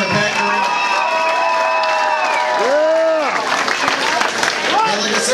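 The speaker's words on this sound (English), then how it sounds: "Let's get a round of applause for Charles Kerner and Pat" A crowd at a local XFO fight event cheers and applauds, with loud whoops and shouts over a dense wall of clapping, while voices rise throughout.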